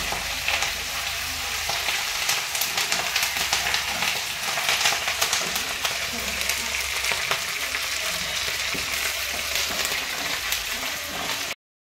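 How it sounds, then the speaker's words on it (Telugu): Washed curry leaves sizzle and crackle in hot oil for a curry leaf chutney, a loud, steady frying hiss that runs unbroken across the whole clip with stirring underneath and no one talking. "వాష్ చేసిన ఆకు కదా, ఎందుకంటే సౌండ్ వస్తుంది."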